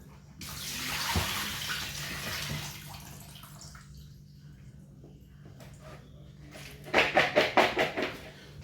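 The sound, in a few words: rinsing waffle cut chips with water in the sink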